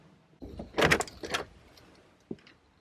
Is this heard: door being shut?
yes